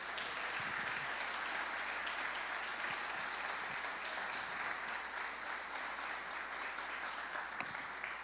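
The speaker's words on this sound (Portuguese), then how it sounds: "Bate palmas para Jesus." A church congregation claps for Jesus during a sermon, a continuous, even wash of many hands applauding, soft and somewhat distant, with no voices over it.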